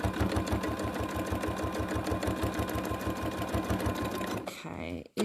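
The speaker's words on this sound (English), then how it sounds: "is that zigzag stitch you were using? No, it's only a straight stitch" A sewing machine runs a fast, steady straight stitch while piecing a fabric collage, close and loud with an even rapid rhythm, then stops abruptly near the end. Speech is tagged but not evident over the machine.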